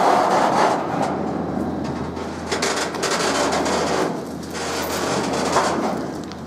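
Heavy freight wagons roll past nearby with a steady rumble, metallic squeals and faint clacking over the rails.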